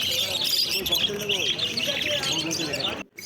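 Lovebirds and other cage birds at a bird market chirp and tweet in a dense, steady chorus close by, with people talking underneath throughout.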